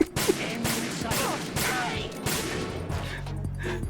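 Video game gunfire in Metal Gear Solid 2 rattles in rapid, repeated bursts of shots and impacts, loud and close, continuing for several seconds.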